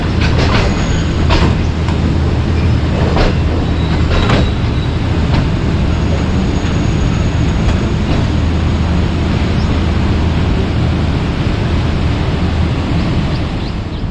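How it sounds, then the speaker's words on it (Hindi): Shalimar Express, the 28 Down service, pulls into Kotlappa railway station in a loud, continuous rumble of rolling railcars, with rhythmic clicks and scattered squeals running steadily throughout and no speech. "28 down Shalimar express कोटलप्पा railway station पर पहुंच चुकी है"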